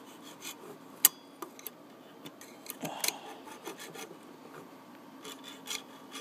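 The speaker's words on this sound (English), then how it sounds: "just get the file in there, or your sandpaper or whatever, and just, gently file the contacts a little bit" A hand file scrapes across the relay contacts of a garage door opener in short, intermittent rasping strokes with occasional sharp clicks and taps, close up and quiet, without voices.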